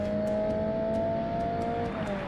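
Race car in Forza Motorsport fitted with a professional exhaust upgrade, a loud steady engine drone holding a sustained pitch that shifts slightly near the end, continuous and close with no talk.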